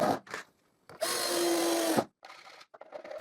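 A power drill drives screws into pine strips to fix a drill support in place, in short whirring bursts, one longer steady run in the middle, separated by brief pauses, close and loud.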